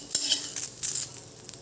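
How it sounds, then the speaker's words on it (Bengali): Garlic frying in oil in a pan while making shidol bhorta gives a hissing sizzle, broken by a few light scrapes and taps of a stirring utensil, close and moderately loud. "রসুনটা একটু ভাজা ভাজা হয়ে নিলে এর মধ্যে শীতল দিয়ে দেবো।"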